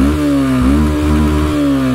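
A loud, close Yamaha FZS version 2 motorcycle with a modified exhaust, deep and throaty, idles and blips, its pitch rising and dipping in short revs.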